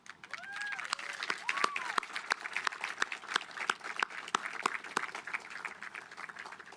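A high school graduation crowd applauds faculty and staff with lively, moderately distant clapping, sharp individual claps standing out, a few cheers and whistles mixed in, and some voices underneath.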